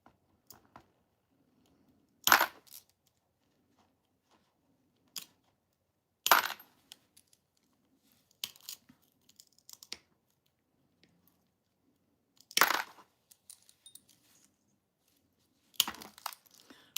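Yellow Vitragraph art glass being cut and broken into small pieces at a studio workbench: sharp, bright snaps and clinks arrive every few seconds, separated by near silence with faint handling noise between them.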